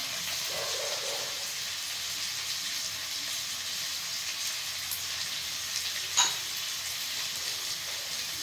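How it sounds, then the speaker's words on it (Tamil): Carrots and green peas sauté in a pan for a veg pulao, giving a steady, even sizzle and hiss throughout with one brief clink of a utensil near the end, no voices. "கேரட்டு, பச்சை பட்டாணிலாம் ஒரு 2 நிமிஷம் வதங்கட்டும்."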